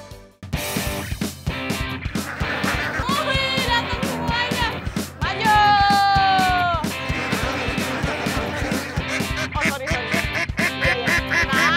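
A flock of ducks at a duck herding site in rural Indonesia, many birds quacking loudly and close in busy overlapping bursts, with sharp repeated calls continuing throughout and no talk.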